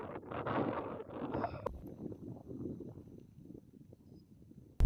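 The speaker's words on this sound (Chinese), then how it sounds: "下午这个大风又吹起来了" Strong headwind buffeting a cyclist riding through a wide green river valley on the Xinjiang–Tibet highway, a loud, rough, fluctuating roar of wind noise on the microphone that eases slightly partway through, with no talking.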